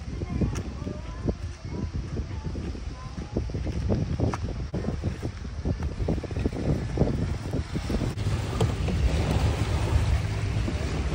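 Strong wind sweeps a beach in Singapore where a kayak is being launched, buffeting the microphone with a constant rough roar and heavier gusts.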